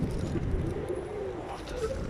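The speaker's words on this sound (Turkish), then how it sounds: "Orada da zaten simitlerle beslenen kuşlar var." Pigeons coo softly in low, throaty murmurs against a dense outdoor city background hum in Sakarya, Turkey.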